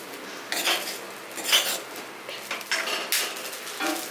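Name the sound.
stirring broken wheat roasting in pan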